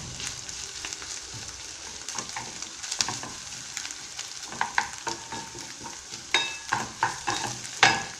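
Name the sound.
eggplant frying in a pan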